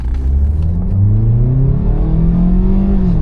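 A Jeep's three-cylinder engine runs steadily at close range, a loud continuous rumble with a rising then falling drone as it revs slightly, with no talk over it.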